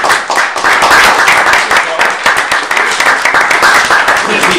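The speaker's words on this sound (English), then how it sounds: "He rose to a smattering of applause." Applause from a university student audience greeting a former senator, loud and close with distinct individual claps in a dense, busy patter that holds steady throughout.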